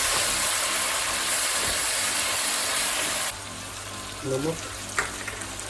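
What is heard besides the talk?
tomatoes added to browned onions frying in pan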